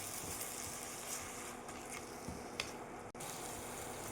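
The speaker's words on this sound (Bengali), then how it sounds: "টমেটোটা ফ্রাই করব যতক্ষণ না তার কাঁচা গন্ধটা চলে যায় আর টমেটোটা খুব সুন্দরভাবে গলে যায়।" Chopped tomatoes for Mumbai-style pav bhaji fry over low to medium heat in a pan, giving a quiet, continuous sizzle with a few faint stirring scrapes and no voices.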